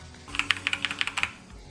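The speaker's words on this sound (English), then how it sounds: "the keys make a noise when they hit the bottom, and then when you let go of the key and they bounce back" Quick run of about a dozen sharp, crisp key clacks from a Razer BlackWidow TE mechanical keyboard being typed on, close and distinct, with no talking.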